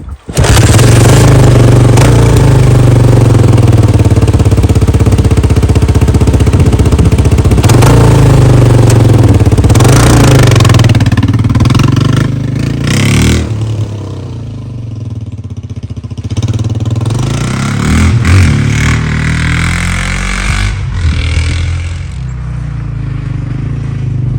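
A 1979–1981 Honda XL500 single-cylinder motorcycle engine running loud and close on a test ride after piston ring replacement, a steady thumping idle with occasional blips that eases slightly partway through.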